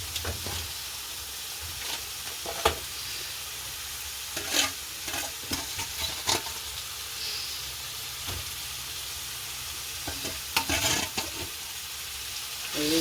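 Curry leaves added to hot oil and stirred in a pan, a steady sizzle punctuated by sharp spatula scrapes and knocks at irregular intervals, close and without voices.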